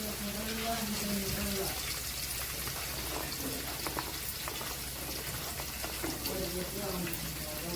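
Chopped carrot, onion and beans frying in a pan, a steady continuous sizzle across the whole stretch with faint tonal voices or background sounds layered underneath.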